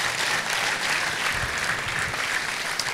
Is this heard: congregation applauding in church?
yes